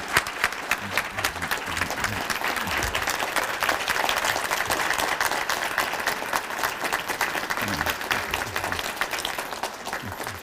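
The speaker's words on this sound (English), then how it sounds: "please join me in a round of applause for our president" An audience applauds at a 2015 State of the College address as a college president is welcomed to the stage. Dense, close clapping with sharp individual claps runs steadily for about ten seconds without a break.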